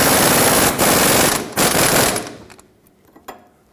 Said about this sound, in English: tighten up the mounting nut